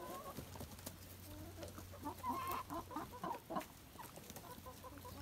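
A flock of chickens clucks and murmurs close by while being fed potatoes, with overlapping soft calls and a low steady hum in the background.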